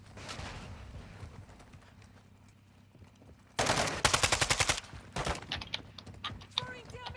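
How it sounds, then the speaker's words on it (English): Gunfire in a PlayStation shooter, where a loud rapid burst of automatic shots cuts in suddenly after a quieter stretch of ambient hum, followed by scattered single shots and game effects. "You are taking effective fire."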